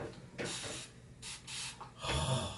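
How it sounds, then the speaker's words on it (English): Several short, breathy hisses of a spray bottle misting hair, in quick bursts with brief pauses between them, close by. "I'll spray it like numerous times with this"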